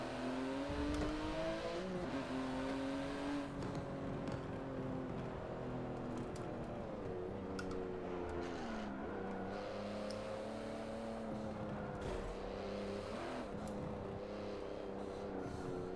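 A race car engine in Forza Motorsport 7 drones loudly and continuously, its pitch rising and falling through gear changes and throttle lifts, with occasional tire noise and no voices over it.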